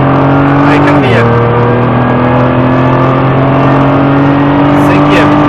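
A Nissan GT-R with a 550 hp 3.8-litre V6 pulls hard in fourth gear, its engine a loud, steady drone heard from inside the cabin, with a brief pitch dip near the start and a voice talking over it.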